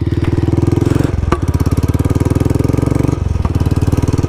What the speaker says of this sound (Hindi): गियर डाउन करके बाइक रोकनी पड़ रही है